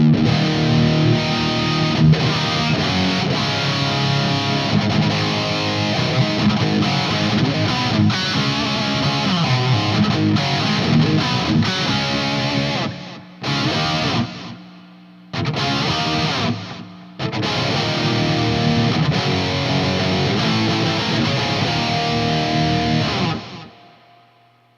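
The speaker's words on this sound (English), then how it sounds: "it's a heavy, really wet reverb" Distorted electric guitar plays loudly through an EVH 5150III LBX Lunchbox amplifier, drenched in long reverb, with a few brief pauses where the ringing tail hangs.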